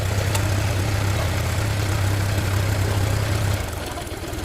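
A Honda Click 125i motorcycle engine idling with a steady low hum that drops and changes near the end, heard close up with no talking.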